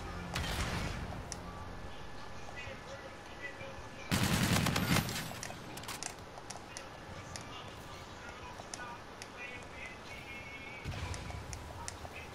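A bombardment strike in Call of Duty: Infinite Warfare lands as a burst of heavy blasts and rapid fire, with a loud roaring section midway and a further volley near the end, while voices talk over it.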